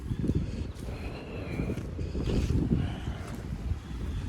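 Steady wind gusting across an open farmyard where Friesian horses are kept, a broad, continuous roar that swells and eases over a few seconds, buffeting the microphone with no voices.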